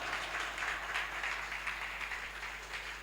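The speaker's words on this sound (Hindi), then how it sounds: "जोरदार ताली बजाएंगे यहोवा के लिए" A church congregation claps loudly and steadily, a dense, continuous wash of applause in a reverberant hall.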